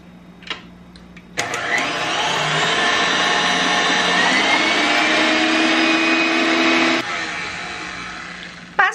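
A stand mixer runs at high speed beating red velvet cake batter with sugar and vinegar, a loud steady motor whir that starts abruptly, holds for several seconds, then cuts off.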